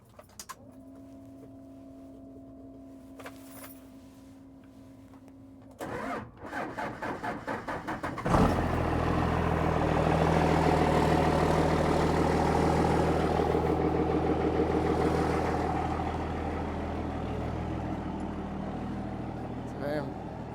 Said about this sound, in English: Figured we get some cold starts on all the trucks and get them moved out.